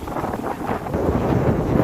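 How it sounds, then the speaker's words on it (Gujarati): Strong wind buffets the microphone on the Mokha–Dwarka highway, a steady low roaring rush that swells slightly louder toward the end, with no voices. "પવન વધી ગયો છે બહુ"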